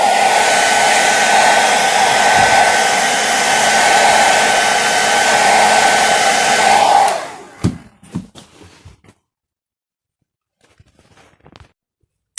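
Heat gun blowing hot air onto tape on a BMW E34 520i during a respray: a loud, steady whirring blast for about seven seconds, then it cuts off, followed by a few sharp handling clicks and near silence.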